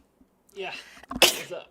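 A single sharp sneeze bursts out mid-moment during a live gaming chat stream, loud and close, with brief casual speech around it.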